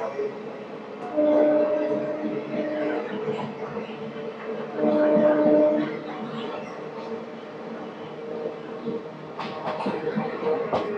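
Pinakini Superfast Express rolling slowly past Duggirala station without stopping: a steady rumble of wheels and carriages with tonal hums swelling twice, close and continuous, with a brief sharper burst near the end.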